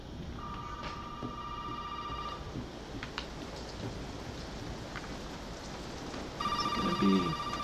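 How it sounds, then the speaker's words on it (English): A telephone rings in the horror video game Resident Evil 7: Biohazard, two bursts of trilling bell several seconds apart over a steady bed of rain-like ambient noise, with no speech. "What if I pissed around in here too long and the phone stopped ringing?"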